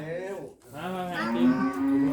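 A cow moos on a farm, one long drawn-out low call that rises in pitch, close and fairly loud. Faint outdoor background sits underneath.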